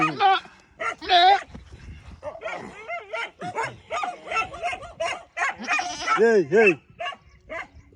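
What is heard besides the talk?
dog barking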